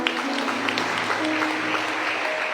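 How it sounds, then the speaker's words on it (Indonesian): A congregation at an Easter church service claps steadily for a few seconds, a dense spread of hand claps with no voices standing out. "Tepuk tangan buat dia."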